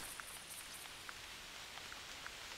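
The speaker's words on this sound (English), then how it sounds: "Oh, it's raining just like it is outside." Rain in the hunting video game theHunter, a soft steady patter with scattered distinct drops against a constant faint hiss, quiet and unbroken with no voices.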